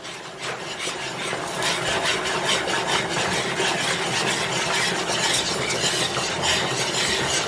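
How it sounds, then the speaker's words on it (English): Flour being whisked together in a pan for a roux, a steady rapid scraping and rubbing of the whisk against the pan, close and continuous without pause or speech. "you want to add 3 tablespoons of all-purpose flour. And you want to whisk this together."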